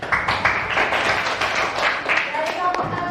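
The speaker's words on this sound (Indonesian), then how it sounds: "beri tepuk tangan untuk Rio" A classroom of students claps for a classmate, with brisk, dense applause lasting a few seconds and voices chattering underneath.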